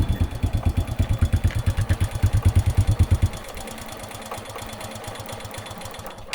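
An old engine in a rice field starts up and runs with a loud, fast, even chugging pulse, then settles into a lighter, quicker idle.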